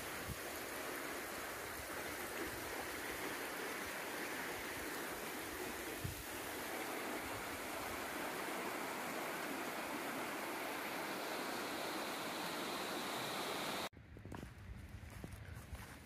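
West Branch Creek, a small stream, flows under a wooden covered bridge on a muddy road, a steady close rush of water that drops away sharply near the end.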